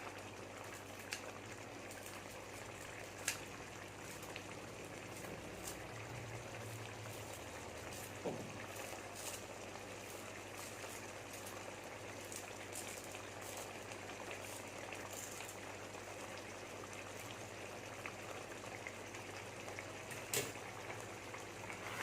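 Egg moily curry simmering in a pot, a steady, soft bubbling hiss that holds for the whole stretch with faint scattered pops and no voices.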